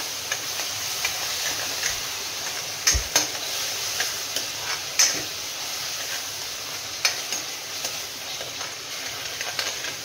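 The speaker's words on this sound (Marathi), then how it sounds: "आलं लसूणची पेस्ट घातल्यावर पण थोडासा आपण फ्राय करून घ्यायचं." Two spoonfuls of ginger garlic paste frying in a pan, giving a steady close sizzle with scattered sharp clicks and scrapes of stirring, without voices.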